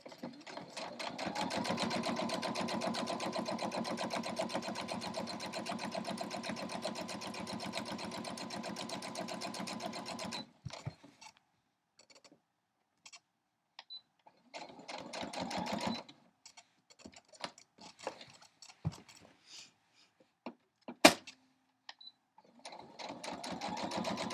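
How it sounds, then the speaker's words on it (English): A sewing machine stitches a quilt sandwich, running continuously for about ten seconds, then in short stop-start bursts with quiet gaps between, near and fairly loud. "I'm just going to start sewing"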